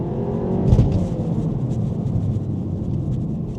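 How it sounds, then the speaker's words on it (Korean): Volkswagen Golf GTI, eighth generation, engine revving hard toward 7000 rpm in manual mode with a steady drone and a brief rising surge near the start, heard from inside the car with no talk. "달려보면 7000rpm까지 쥐어짜면서 달릴 수 있습니다."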